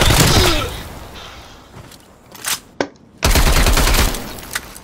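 Gunfire in Black Ops Cold War: loud, close automatic bursts at the start and end, with a few scattered single shots in a quieter middle stretch.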